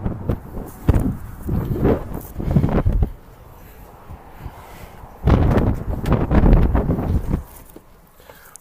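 Strong, gusty wind outdoors near Pyramid Lake, buffeting the microphone in two long loud bursts of low roar and rustle separated by a quieter lull.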